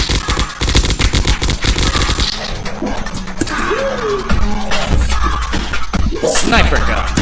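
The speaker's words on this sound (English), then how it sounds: "Assault rifle." Assault rifle gunfire from a zombie shooter game, rapid continuous bursts of loud automatic shots with brief pauses, mixed with crashing impacts and some speech.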